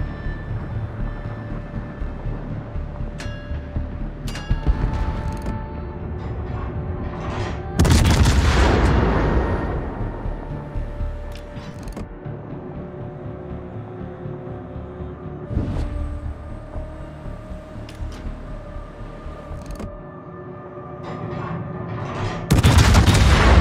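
Warship guns in a naval video game fire in heavy booming salvos, several loud blasts spaced through the stretch, with rumbling decay and distant shots between them.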